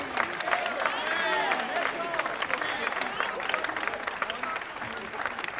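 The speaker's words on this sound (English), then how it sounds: "How about a round of applause for our alumni" Audience applause for returning Canfield High School band alumni at a winter band concert, a dense, steady wash of clapping from a large crowd filling the hall throughout, with faint cheers and crowd murmur mixed in.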